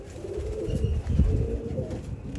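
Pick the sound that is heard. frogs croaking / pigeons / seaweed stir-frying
pigeons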